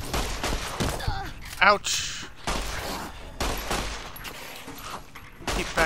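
Gunfire from a player's weapon shooting geckos in Fallout: New Vegas, a few loud bursts of shots mixed with creature cries and a pained yelp, with someone talking over much of it.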